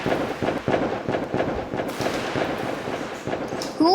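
Fireworks and firecrackers going off in a video game, a dense run of sharp repeated pops and crackles with a brief whistling burst near the end, loud and steady throughout.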